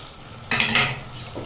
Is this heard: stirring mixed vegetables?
yes